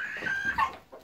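Rooster and hens clucking briefly, a short mix of close, raspy clucks and calls with a sharper squawk midway, over faint background noise.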